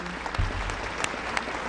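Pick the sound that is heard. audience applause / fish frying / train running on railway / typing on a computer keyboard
audience applause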